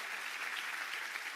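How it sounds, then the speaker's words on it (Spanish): Congregation clapping in a church service, a dense steady wash of applause filling the whole moment with no voices on top. "Dele otro fuerte aplauso al Señor."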